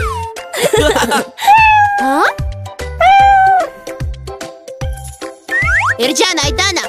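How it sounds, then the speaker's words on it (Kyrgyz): A cat meows repeatedly over a bouncy children's song about domestic animals, the cries rising and falling in pitch, loud and close, with a rhythmic backing beat and playful sound effects. "Бул деген мышык."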